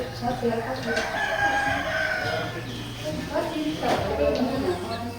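A rooster crows at a morning breakfast scene, its call rising clearly at moderate distance over a steady bed of household noise, clatter and people talking nearby.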